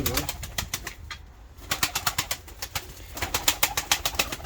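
Pigeons in a coop, white tumbler birds, give a close, steady run of rapid flapping bursts, wings clattering again and again with soft cooing beneath.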